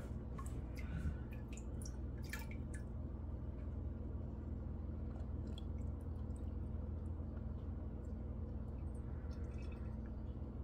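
Beef bone broth drips through a paper filter, a steady patter of small drips over a low continuous background hum, close and fairly quiet with no one talking.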